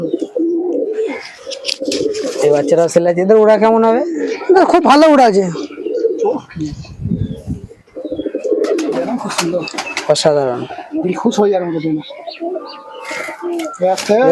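Young teddy pigeons coo repeatedly at close range among other pigeons, with someone talking over much of it and calls rising between and beneath his voice.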